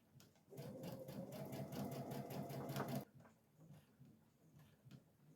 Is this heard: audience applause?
no